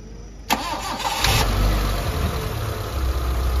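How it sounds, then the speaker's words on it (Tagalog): A Mitsubishi Lancer engine cranks with a sharp click, catches, and settles into a low, steady idle rumble nearby. "paandarin natin yung sakyan. Ayan, on ignition"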